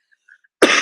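A woman gives a single short, harsh cough close to the microphone after a moment of near silence.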